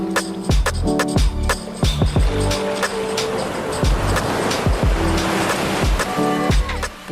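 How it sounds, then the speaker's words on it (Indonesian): Ocean waves wash onto a shallow beach in Buton Tengah, a steady broad surf rush with surges rising and falling, while repeated low tonal bumps, like a passing boat or vehicle, sound nearby. "Puas menikmati deburan ombak,"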